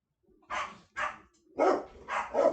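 Dogs bark several times in short bursts, a few quick single barks followed by louder, closer ones, with brief gaps between.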